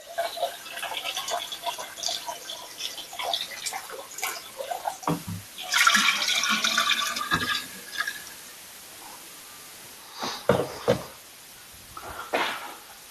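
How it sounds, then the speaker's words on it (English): Liquid for a rye-and-malt whiskey mash splashes and pours into a 5-gallon pot in uneven bursts, about 4.5 gallons in all, with clunks of handling between pours, close by. "I'm going to start transferring this over and get it into the pot"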